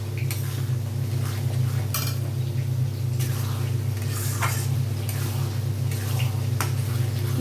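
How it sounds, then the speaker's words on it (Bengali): Spices for chicken kasha, with green chilli and a spoon of sugar, stirred in a pan over a constant loud burner hum, with scattered scraping clinks of the spoon against the metal. "একটু নাড়িয়ে নিই।"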